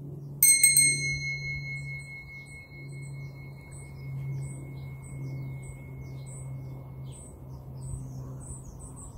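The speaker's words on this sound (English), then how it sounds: "I brought the bell. Remember the bell?" A bell struck once and left to ring out in a quiet room for a moment of listening, its bright high tone fading slowly over several seconds above a low steady hum, with birds chirping faintly outside.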